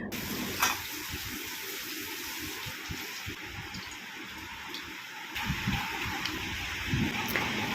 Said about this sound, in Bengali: এইভাবে অল্প অল্প করে সর্ষেটা ছেঁকনির মধ্যে দিয়ে পুরোটা ছেঁকে নিচ্ছি